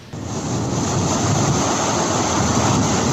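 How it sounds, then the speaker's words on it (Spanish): Rushing flood water surging through a ravine after an hour of intense rain in a rural parish, a loud, steady roar of churning water filling the whole stretch without pause. "Es la fuerza arrasadora del agua."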